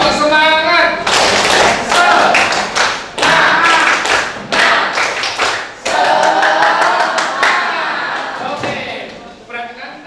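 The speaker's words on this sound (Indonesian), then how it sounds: "Tepuk semangat." Classroom group clapping drill led by a teacher, with students clapping in bursts of loud, sharp hand claps and thuds in a patterned rhythm over about ten seconds, separated by short pauses, close and busy.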